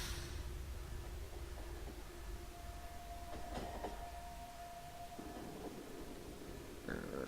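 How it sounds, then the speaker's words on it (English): A train rumbles steadily along in Factorio, a factory-building video game, with continuous rolling noise, a sustained tonal whine midway and faint clicks, all fairly quiet. "Back onto the engineering train."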